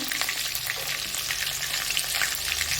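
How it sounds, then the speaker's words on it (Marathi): Curry leaves, ginger and green chili fry in hot oil in a pan, giving a dense, steady, close crackling sizzle with no voices. "आता आपण यामध्ये आता कढीपत्ता आलं आणि मिरची टाकू"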